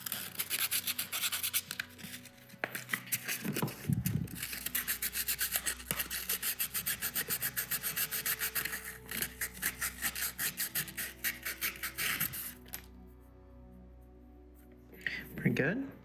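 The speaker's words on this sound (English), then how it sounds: "Also going to touch it up with some sandpaper really quick. 600 grit" Fine 600-grit sandpaper rubs back and forth over a metal lock core, a close rhythmic rasping that runs for about twelve seconds, then drops to light handling noise.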